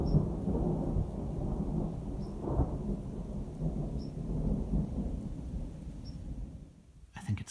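Heavy rain pours steadily near Percé on Quebec's Gaspé coast while low thunder rumbles and rolls in the distance, with a faint high chirp recurring now and then.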